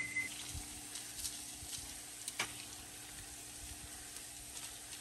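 Strips of bacon frying in a pan while cooking breakfast burritos, a steady soft sizzle with faint crackles and one sharp tap, no voices.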